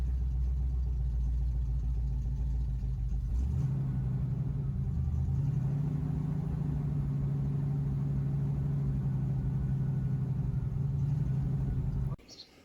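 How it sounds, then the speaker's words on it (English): A pump draws old fuel from the tank of a 1970 Chevy that sat for over twenty years, giving a steady low mechanical drone that shifts to a higher hum partway through and cuts off abruptly near the end. "Now, it is pumping old fuel out of that tank, and it's disgusting."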